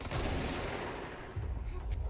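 Gunfire and explosive blasts in the video game Control, a rolling volley of shots at moderate loudness with a brief lull midway before another burst.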